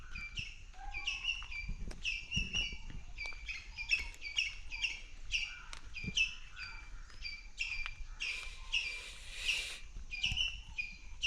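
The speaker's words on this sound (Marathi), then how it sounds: "पक्ष्यांचे आवाज बघा मस्त येतात सकाळी सकाळी" Several birds chirp and tweet in quick repeated bursts in the early morning, clear and fairly close against a quiet garden background, with occasional faint knocks.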